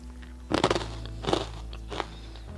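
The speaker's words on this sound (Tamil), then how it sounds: "ஸோ ரொம்ப ரொம்ப கிறிஸ்பியாக இருக்குது. சாப்பிட்டு பார்க்கலாம்." Three sharp, crisp crunches come from biting into a crispy homemade murukku snack, spaced under a second apart and heard close up over a faint low hum.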